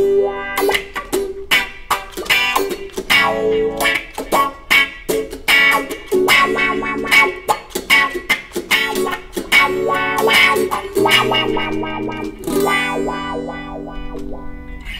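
An electric guitar plays through a delay effect on a pedalboard, with loud plucked notes and chords echoing in repeated tails as a rhythmic phrase runs throughout, with no talking.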